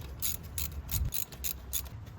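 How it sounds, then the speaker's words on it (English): Ratchet wrench torquing down turbo assembly bolts over a gasket on a 1.5L Suzuki Jimny XL: quick rhythmic bursts of close ratcheting clicks, about half a dozen strokes in two seconds. "I typically like to work from the center outward whenever torquing down anything, especially when there's a gasket involved"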